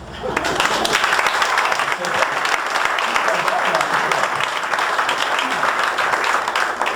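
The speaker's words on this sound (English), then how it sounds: "we get a thunderous round of applause" An audience applauds a magic rope trick with dense, steady clapping that fills the whole stretch at an even loudness, with no clear breaks and nothing else standing out.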